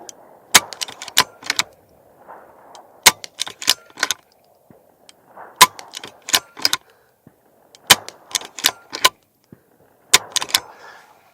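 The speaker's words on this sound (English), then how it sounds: "that's all you're hearing is the action of the gun" A suppressed .22 rifle with a Lantac suppressor fires CCI Quiet rounds, heard mainly as sharp mechanical clacks of the action in short clustered bursts, with soft muffled shot sounds between, close and crisp.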